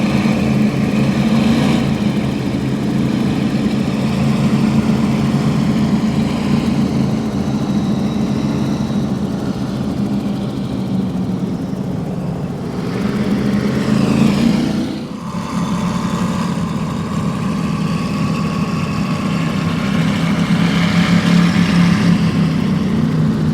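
Powerful engines of a 40-foot MTI powerboat on a poker run roar steadily, a deep rumbling drone that swells and dips around the middle before settling back into a loud, sustained run.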